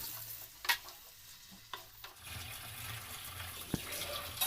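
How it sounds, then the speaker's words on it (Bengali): Onions stirred and fried in a pan for a Bengali-style chicken kosha, a soft sizzle with scraping stir strokes and a few clinks, close and fairly quiet, with no talk. "পেঁয়াজগুলো ভাজতে হবে"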